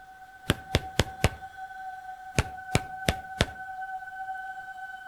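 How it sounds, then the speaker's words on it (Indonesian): Loud, hurried knocking on a door: two quick bursts of four sharp raps each, close and crisp, over a faint steady electronic hum. "Suara ketukan di luar terdengar keras dan tergesa."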